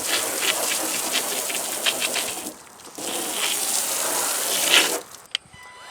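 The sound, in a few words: rinsing a Nissan Titan truck with water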